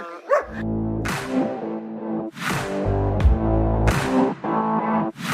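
A small dog barks repeatedly in sharp, loud bursts at a pet market, several distinct barks spaced about a second apart, close by with no talking.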